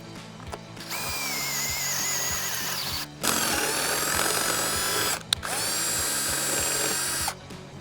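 A power drill bores a hole for fitting a CBI roof rack on a fourth-generation Toyota RAV4, whining loudly in two long bursts, each about two seconds, with short pauses and a clatter between them.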